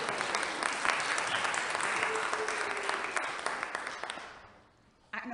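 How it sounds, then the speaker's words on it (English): A church congregation applauds loudly and steadily, many hands clapping together before the sound fades out and a voice begins speaking at the end. "I know it's wonderful to clap"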